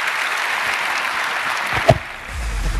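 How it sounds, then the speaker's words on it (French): An audience applauds a development team called on stage at a Microsoft TechDays 2012 developer conference, a dense crowd clapping that fades away with a loud knock near the end. "Merci de les applaudir."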